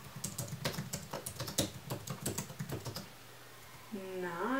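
Rapid typing on a computer keyboard, a close, fast run of clicking keystrokes that stops after about three seconds and leaves quiet room tone.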